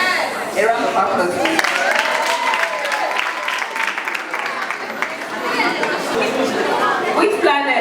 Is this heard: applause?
yes